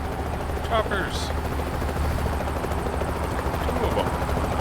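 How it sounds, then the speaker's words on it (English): Helicopters in the video game American Truck Simulator, a steady rotor thump and engine drone heard near a busy intersection while driving toward Seattle, continuous under the background mix with a few faint chirps. "Choppers."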